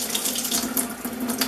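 Water runs from a kitchen or bathroom tap as it warms up, a steady close splashing stream that flows without pause.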